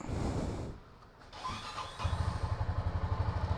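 A motorcycle engine starts: after a brief quiet stretch it catches and settles into a steady, throbbing low idle, heard close by with no talk.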